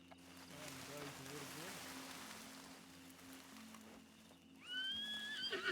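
A horse in the Red Dead game lets out a whinny, a short rising and falling neigh toward the end, following a stretch of steady rain-like ambience and speech.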